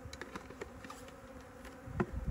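Soft, steady buzzing of honey bees feeding at sugar water close by, with faint small clicks and shuffles; a slightly louder burst near the end.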